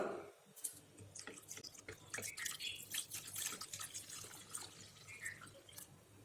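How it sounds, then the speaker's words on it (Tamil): Second-extract coconut milk pours into powdered palm jaggery for Sri Lankan dodol, a steady close liquid trickle with small splashes and drips running throughout, with no talking. "ரெண்டாவது எடுத்த தேங்காய் பால் அந்த தேங்காய் பாலை இது கூட சேர்த்துடலாம்"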